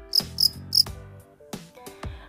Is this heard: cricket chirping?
yes